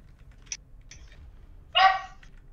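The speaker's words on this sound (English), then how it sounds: "Dog." A dog gives a single short bark that stands out clearly, after a couple of faint earlier yips, against a quiet background.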